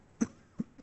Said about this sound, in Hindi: मुझे ना खांसियां भी शुरू हुई